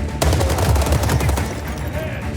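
The K2C1, a standard Korean army rifle in the game World War 3, fires a dense, loud automatic burst that runs through the whole moment with no break.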